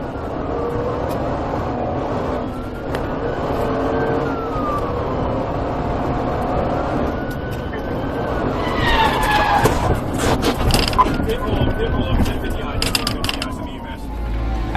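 Police car chasing a fleeing vehicle and ramming it in a PIT maneuver, with steady engine and road roar, a siren wailing faintly, then clattering impact and scraping bursts near the end, some voice under the noise.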